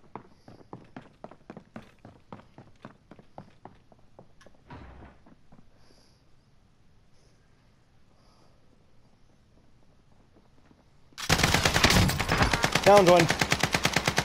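Gunfire in the video game Warzone: a string of quick single shots, then a sudden loud burst of sustained automatic fire in the last few seconds, with players talking briefly during the clip.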